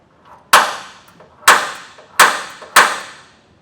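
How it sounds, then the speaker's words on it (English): Four sharp metallic strikes of a hammer on a center punch against a steel fifth wheel hitch bracket on a cross rail, evenly spaced about a second apart, close and loud with quick ringing decays. "I'm going to use a center punch and get a punch right in the center"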